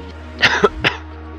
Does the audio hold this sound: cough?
yes